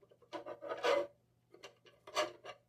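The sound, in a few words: action figure fitted into plastic stand waist clamp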